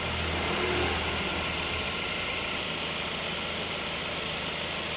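A Ford Focus with about 93,905 km, compressor noisy with age, idles steadily with its air conditioning running, a constant mid-pitched engine hum and vibration, close and even throughout.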